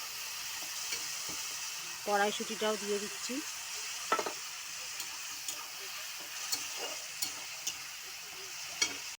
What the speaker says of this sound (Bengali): যতক্ষণ না তেল ছাড়বে মশলাটা কষিয়ে নেবো